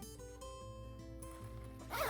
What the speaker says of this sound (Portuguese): Deixa eu trazer o zíper pra cá.